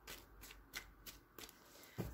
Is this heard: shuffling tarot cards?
yes